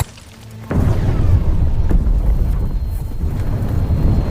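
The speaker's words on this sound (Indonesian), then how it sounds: "Sesudah bom diledakkan" A bomb goes off in a war film about a Ukrainian sniper, a sudden heavy boom followed by a sustained loud low rumble and roar that fills the rest of the moment.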